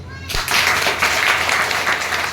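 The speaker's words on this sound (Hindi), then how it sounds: "तो ताली बजा दो" Audience at a devotional gathering breaks into loud, sustained clapping right after a short pause, a dense continuous wash of applause filling the whole stretch.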